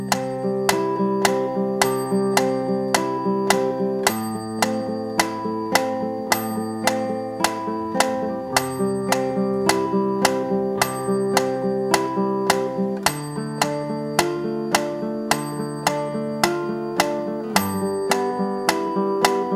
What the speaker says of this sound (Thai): ให้ฟังเสียงกระดิ่งนะครับง่ายๆเลยนะครับฟังเสียงกระดิ่ง